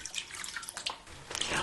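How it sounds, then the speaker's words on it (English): Water poured from a jug into a roasting pan holding pork ribs, a light trickling and dripping splash running throughout, close and fairly quiet with no voices. "Add 500 ml of water."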